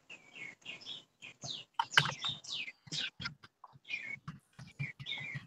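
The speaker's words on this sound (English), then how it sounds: "I love listening out here in the morning and listening to the birds." Small birds chirp and tweet in quick, varied calls around a back porch on a morning, fairly close but quiet, with no talking.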